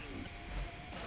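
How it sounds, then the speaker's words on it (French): Mechanical clunk and ratcheting whir of a 3D printer exchanging an item in the video game Risk of Rain 2, a short steady clatter lasting about a second with no talk. "Un objet, imprimante 3D."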